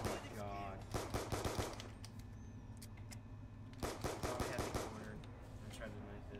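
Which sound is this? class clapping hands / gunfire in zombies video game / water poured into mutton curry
gunfire in zombies video game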